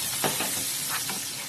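Onion sizzles and hisses in hot butter in a pan, a steady close frying sound with a few soft stirring scrapes and no talk.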